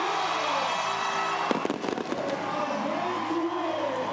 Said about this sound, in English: give her those fireworks